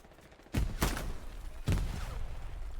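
Gunfire in a first-person shooter game: three sharp, loud shots with short decaying tails, two close together and a third about a second later, over a quiet game background.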